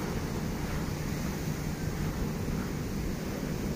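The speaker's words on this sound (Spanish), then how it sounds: "de repente como que viene fuerte oleaje" Strong ocean waves breaking on Icacos beach, a steady loud roar of surf with wind rushing across the microphone, continuous and close, no voices.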